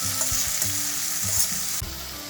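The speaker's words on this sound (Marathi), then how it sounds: "हे सोया चंक्स टाकायचे आणि हे पण परतून घ्यायचे" Soya chunks and vegetables sautéing in a pan for soya pulao, a close steady sizzle with rhythmic stirring scrapes about every half second and a clunk toward the end.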